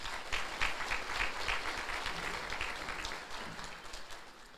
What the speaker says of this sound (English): please join me in a round of applause for these candidates